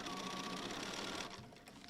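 Sewing machine stitching a quilt appliqué piece onto a fabric circle, a steady close mechanical whir running continuously, then easing slightly softer near the end with no talking.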